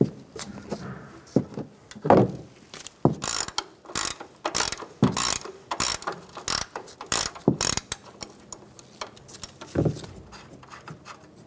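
A ratchet wrench removes a nut from a control arm on a 2014-2018 Chevrolet Silverado pickup, giving close, loud bursts of rapid clicking in repeated strokes with short pauses between them.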